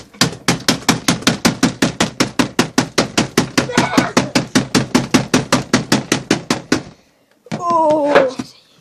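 A screwdriver striking a TV over and over in a fast, even series of loud close blows for several seconds, stopping abruptly, followed by a voice shouting out.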